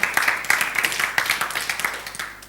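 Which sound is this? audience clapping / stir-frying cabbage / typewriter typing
audience clapping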